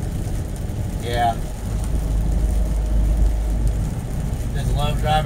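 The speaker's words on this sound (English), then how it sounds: "Just love driving in the rain." Rain drumming on a moving car while driving, a steady close wash of patter and road hiss throughout, with brief bits of talk over it.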